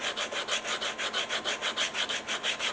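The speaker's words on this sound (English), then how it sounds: "So I'm actually going to sand that down until those two pieces meet." Close, rhythmic back-and-forth sanding rubs along the edge of a leather cell phone holster where the molded front and back pieces meet, steady even strokes about five per second, without speech.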